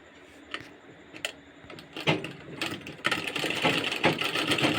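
A sewing machine stitches the side seam of a kameez in short bursts that grow into a steadier close whir, with scattered clicks and handling knocks in between.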